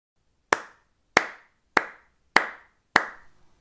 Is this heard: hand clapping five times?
yes